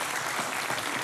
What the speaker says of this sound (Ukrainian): Давайте же поддержим ее своими аплодисментами.